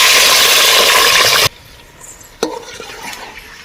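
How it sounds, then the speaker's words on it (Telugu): Washed chicken lands in hot oil with a loud, hissing sizzle that cuts off abruptly, followed by quieter kitchen sounds and a sharp clatter of a utensil. "ఇప్పుడు నూనెలో చికెన్ కడుక్కున్న చికెన్ మంచిగా అయితే వేసుకోవాలి"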